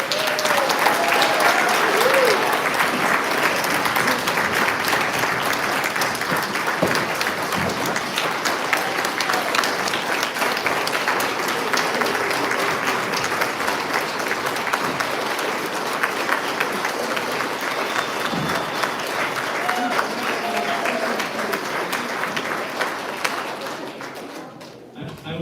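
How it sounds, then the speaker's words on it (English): Long, steady audience applause for legislators at a Democratic town hall in Gallatin County, many hands clapping with occasional whoops and murmurs from the crowd, holding strong for about twenty-four seconds before quickly dying away. "let's have a big round of applause for our legislators"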